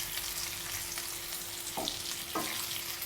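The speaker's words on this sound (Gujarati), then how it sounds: "આ રીતના આપણે ફેરવી ફેરવીને બધા મરચાંને શેકી લઈશું" Stuffed capsicums pan-roasting in oil, giving a constant dense sizzle with two brief scraping turns of the peppers partway through.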